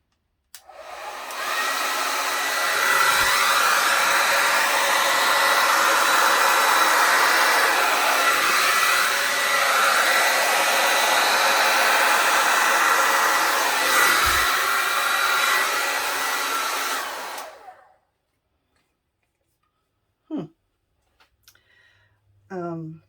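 Hair dryer blowing steadily and loudly across wet acrylic pour paint for about sixteen seconds, then cutting off, followed by a few faint clicks and handling sounds.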